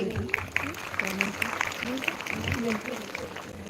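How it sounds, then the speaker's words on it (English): Clapping from an audience at a school annual function fills the room, steady and moderately loud, with some voices and cheering mixed in. "Let us give them a big round of applause, please."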